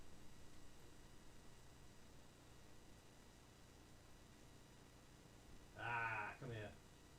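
A pair of goat bleats from a small herd waiting to be put to bed at dusk, heard close by near the end after steady background hiss, with no talk.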